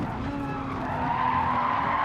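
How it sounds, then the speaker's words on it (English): Race car tyres squeal steadily through a right-hand corner while the engine drones loud and close underneath for the whole stretch. "You can hear the tyres just protesting going through the right-hander."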